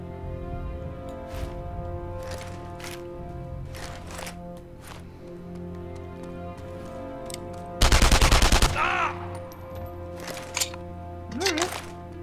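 Gunfire from the video game Enemy Front: scattered single shots through the scene, then a loud rapid automatic burst for about a second, followed by a few more distant cracks over low game ambience.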